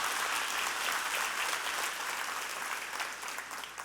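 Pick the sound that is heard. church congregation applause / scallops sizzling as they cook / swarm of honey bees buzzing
church congregation applause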